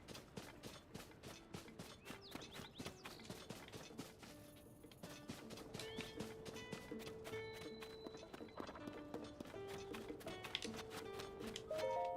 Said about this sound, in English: I think we could actually grab a horse from the stable just to speed things up even more.